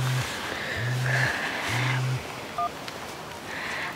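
A phone rings with an incoming call, repeated electronic tones in a steady on-off pattern, near and fairly loud over low background hum, with a brief beep near the end.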